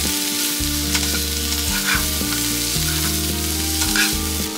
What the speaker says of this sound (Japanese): フライパンに玉ねぎを入れて、